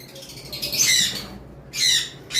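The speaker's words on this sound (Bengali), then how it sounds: "এবার আসি আমরা পাইনাপেল কলরগুলো দেখাই" Pineapple conure parrots give two harsh, loud squawks close by, with a short quiet gap between them.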